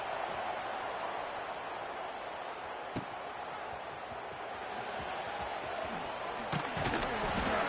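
Stadium crowd in College Football 26 roars steadily through a punt return in a Buffalo Bulls dynasty game, a dense sustained cheer with a sharp thud near the middle and a swell of louder cheering toward the end.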